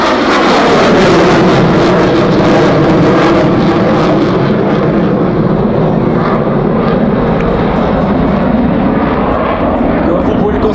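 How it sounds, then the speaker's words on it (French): A Dassault Rafale fighter jet makes a long pass at an air show, its engine roar loud and constant throughout as it sweeps by, with a faint announcer's voice in the background. "passage long du Rafale"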